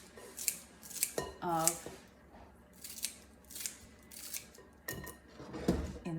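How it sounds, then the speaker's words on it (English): Kitchen scissors snip fresh cilantro into tiny pieces for an Asian coleslaw, a run of crisp, close, metallic cuts in quick bursts, with a brief spoken word in between. "I'm gonna take my scissors and I'm gonna cut really small pieces"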